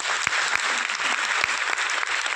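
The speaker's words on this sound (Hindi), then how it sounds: "एक बार चाहूंगा प्रोफेसर साहब के लिए एक बार जोरदार तालियां।" Audience applause for a professor at a product launch event in a five-star Delhi hotel ballroom: steady, dense clapping from a large crowd, loud and sustained throughout with a few sharper individual claps standing out.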